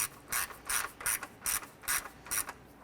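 A ratchet clicks in seven short, evenly spaced bursts while snugging down plastic radiator cooling fan bolts on a 2008-2012 Honda Accord, close and crisp with nothing else audible.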